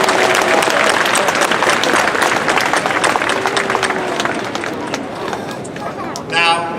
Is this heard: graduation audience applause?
yes